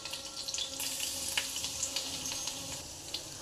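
Garlic and coriander stems frying in hot oil in a pan, giving a steady crackling sizzle that stays close and fairly loud throughout, with no voices.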